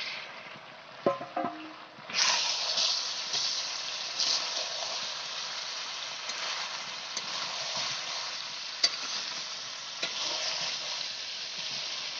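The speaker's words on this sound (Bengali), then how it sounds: "এটা কষানো হয়ে গেছে, এখন আলুটা আর পেঁপেটা ঢেলে দিলাম।" Potatoes and papaya tipped into chicken curry frying in a pan, starting with a few clattering knocks before a loud, steady sizzle swells up and runs on close by with occasional small pops, no talk.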